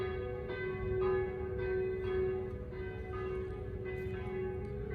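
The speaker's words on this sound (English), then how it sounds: "the crescendo of bells ringing the hour" Distant church bells in Venice ring the hour from several towers at once, overlapping strikes blending into a steady, resonant peal.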